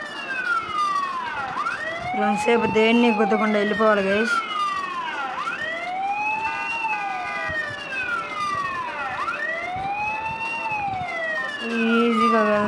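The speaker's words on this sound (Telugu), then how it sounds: "ఇది అంబులెన్స్ గైస్." A wailing ambulance siren in a doctor video game sweeps up and down in repeated cycles, loud and steady throughout, while someone talks over it.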